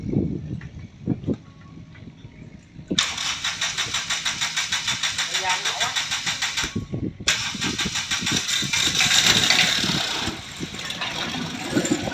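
A turbo-modified Yanmar 3T66 diesel engine cranks and catches, then runs with a loud, rapid chugging pulse that briefly cuts out and restarts. Voices talk under the rough idle.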